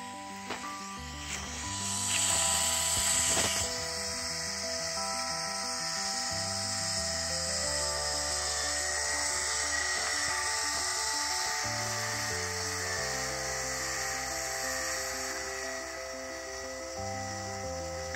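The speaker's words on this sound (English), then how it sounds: "You can hear those motors whirring up." Telescope mount motors whir steadily while slewing toward the Pleiades outdoors, a close electric whine that steps up and down in pitch in short stages, with a brief louder burst early on and no voices.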